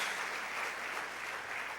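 Steady applause from a church congregation, many hands clapping in an even, moderately loud wash lasting under two seconds.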